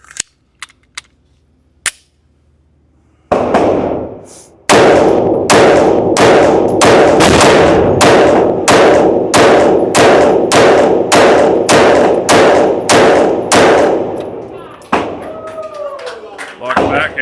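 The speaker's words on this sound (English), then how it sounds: "They're shooting 50 cal in here if you didn't hear it." .50 caliber gunfire inside an indoor shooting range: a long, evenly spaced series of loud, sharp, booming reports, about a dozen and a half, each ringing in the enclosed space after a few scattered quieter shots.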